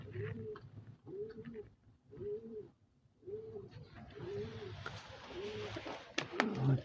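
Pigeons coo in a loft, with repeated soft, rhythmic coos close by over a faint background rustle and a few brighter flutters near the end.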